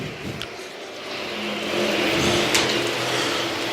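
Race cars roar past on an oval racetrack, with engine noise swelling as they approach and a steady mechanical drone underneath, heard from a distance with crowd ambience.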